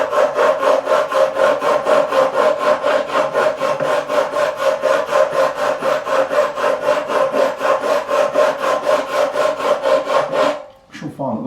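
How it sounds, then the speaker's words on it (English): Rhythmic back-and-forth rasping of 320 grit abrasive skimming across the frets of a Korean-made Squier Stratocaster, steady strokes close and loud for about ten seconds before stopping abruptly. "Just a couple of skims with some 320 grit just to soften these scratches I've already got in these frets."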